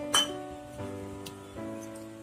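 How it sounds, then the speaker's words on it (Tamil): A spoon clinks against a tumbler while baking soda is stirred into water, three distinct ringing taps spaced roughly evenly, close and fairly quiet. "ஒரு டம்ளர்ல போட்டுட்டு தண்ணி ஊத்தி நல்லா அந்த ஆப்பச்சோடாவை கலந்துக்கணும்."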